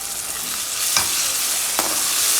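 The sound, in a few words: stirring ginger garlic paste frying in a pan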